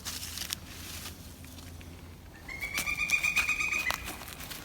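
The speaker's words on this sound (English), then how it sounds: "A lot of birds too in this area we're hearing." Several birds chirp and trill in a bright, busy burst midway through, over a low steady background hum, fairly close and moderately loud.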